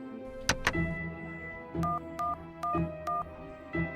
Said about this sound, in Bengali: আমি ল্যান্ডলাইন থেকে ফোন করব